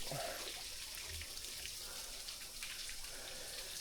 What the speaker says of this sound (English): things sliding down that little waterfall there